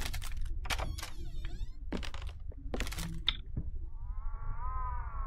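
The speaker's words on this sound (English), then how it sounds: "We got a demon cat outside." A demon cat in the horror game Layers of Fear yowls outside, a wavering, drawn-out cry that rises near the end after a stretch of scattered clicks and knocks.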